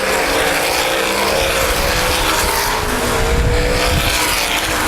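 Sprint cars race at Baer Field Speedway, a dirt oval, in a steady, loud, continuous engine roar from a pack of cars circling, with no break in the din.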